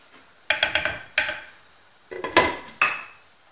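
A lid goes onto a tagine pot simmering tomato sauce for kefta and potatoes, giving a few close clattering knocks and scrapes of ceramic in two short bursts with quiet between.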